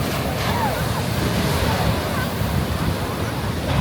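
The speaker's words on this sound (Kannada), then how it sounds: "ಈವ್ನಿಂಗ್ ಆಗಿರೋದ್ರಿಂದ ಅಲೆಗಳು ಕೂಡ ತುಂಬ ಜಾಸ್ತಿ ಇದೆ ನೋಡಿ" Evening ocean waves roll onto Pallikere Beach in Kasaragod, a loud continuous wash of surf mixed with wind rumble on the microphone.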